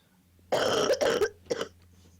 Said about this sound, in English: Quit coughing on all the questions